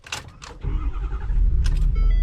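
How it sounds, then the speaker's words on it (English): A USSV Rhino GX armored vehicle engine starts after a couple of short clicks, catching into a loud, steady low rumble that settles into a close, continuous idle. "Let's start the car."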